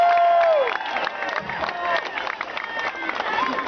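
A large outdoor crowd at an End the Iran Deal political rally in Washington, DC cheers and shouts steadily, with scattered whistles and claps forming a dense, continuous roar at moderate distance.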